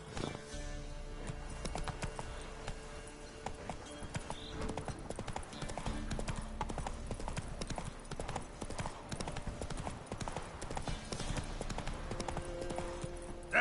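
Hooves of Roach, the horse in The Witcher 3 video game, clip-clopping at a steady trot, dense and continuous over a busy in-game background of ambient sound.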